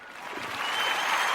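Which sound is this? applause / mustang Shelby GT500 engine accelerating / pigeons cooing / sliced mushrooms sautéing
applause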